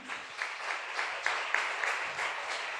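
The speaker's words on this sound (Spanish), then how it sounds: "Denle un fuerte aplauso allí" A congregation at a church service claps in a steady rhythm, roughly evenly spaced beats under a soft ambient wash, moderately loud and fairly distant.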